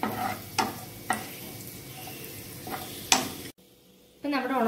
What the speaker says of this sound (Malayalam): ലോ ഫ്ലെയിമിൽ ചെറുതായിട്ടൊന്ന് ഇളക്കി കൊടുക്കുക.